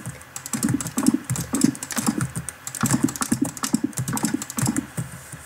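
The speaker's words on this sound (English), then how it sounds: "So if you can hear all that clicking, it's just me placing all the blocks." Rapid clicking of a computer mouse and keyboard while placing blocks in a mansion-building game, busy irregular clusters of close, crisp taps running the whole time with only brief gaps.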